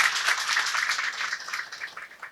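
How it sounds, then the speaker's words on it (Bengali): Audience at an exhibition event breaking into warm applause, dense hand clapping from a crowd that swells briefly and then gradually thins out. "আমরা হাততালি দিয়ে তাদেরকে একটু"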